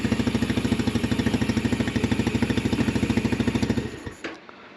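An X Pro Storm 150 DLX pit bike engine idles while warming up, a steady close, loud rapid putter with even pulsing beats that falters and dies out near the end.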